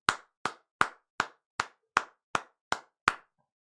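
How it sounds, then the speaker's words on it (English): Nine sharp, evenly spaced hand claps from a single person, loud and close, each with a short decay and silence between them, with no talk. "Let's all clap for Corrins"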